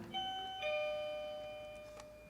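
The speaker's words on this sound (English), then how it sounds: "Doorbell's ringing." A two-tone chime doorbell rings out, each note ringing and decaying slowly, fairly clear with no voices.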